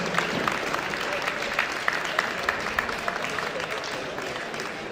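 An audience applauds steadily at a powerlifting competition for the women's minus 63 kg category, with dense clapping and a few sharper individual claps standing out.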